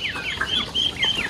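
Chickens and chicks cluck and peep in short, busy bursts while pecking at poultry feed close by, with ducks feeding nearby.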